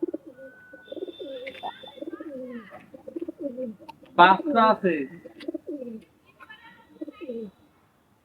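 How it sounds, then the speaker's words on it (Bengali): Pigeons coo in soft, repeated throaty phrases close by, with a person speaking briefly in between. "সব দেশি কবুতর এইগুলো সব দেশি কবুতর"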